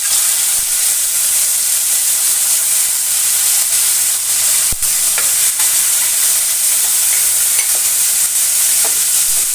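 Cubed tomatoes hiss loudly in hot ghee in a pan, a dense, continuous, close sizzle with a few faint spatula taps and no talking.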